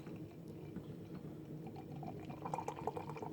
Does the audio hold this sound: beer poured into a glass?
yes